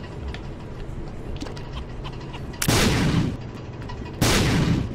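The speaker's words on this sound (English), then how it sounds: "Use a bomb to blow up the carpet." Bomb explosions in the video game The Binding of Isaac: two loud, sharp blasts about one and a half seconds apart, each with a short noisy tail, over constant game music and effects.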